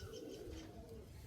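Soft, low cooing from a nearby domestic Andhra pigeon, a single short murmuring call sounding quietly over faint background noise.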